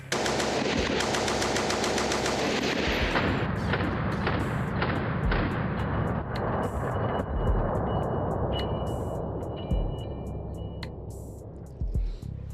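A WW1 machine gun fires on a range in long sustained bursts, loud and close, the rapid rhythm breaking into shorter strings of shots toward the end.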